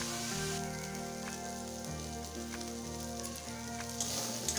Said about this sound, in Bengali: এটা একটু ভালো করে এখন কষিয়ে নেব।